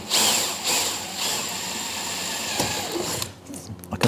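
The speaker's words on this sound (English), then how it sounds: "But I'm just going to pop a pilot hole through." A power drill whirs continuously at close range drilling a pilot hole through fibre cement plank cladding, its motor pitch steady with brief dips, then stops and is followed by a few small knocks.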